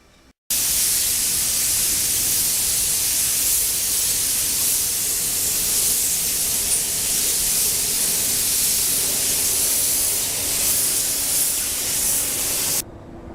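Spray gun shooting white paint over a repaired crack, a loud, steady hiss held for about twelve seconds after a quiet start, then cutting off abruptly.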